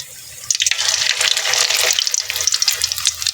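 Chicken for teriyaki frying in a pan, crackling and sizzling loudly up close with a steady spitting hiss and a few louder pops, no voices.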